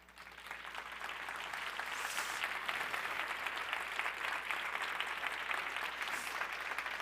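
A crowd at a climate symposium closing plenary applauds steadily for several seconds, a dense, even patter of many hands clapping at moderate distance with no talk.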